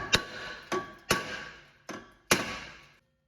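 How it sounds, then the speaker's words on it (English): Five sharp metallic taps of a hammer on a Toyota Venza rear brake drum, unevenly spaced, each with a brief ringing tone that fades quickly. Close and fairly loud, no voices. "So we'll get a little hammer, we'll tap on that."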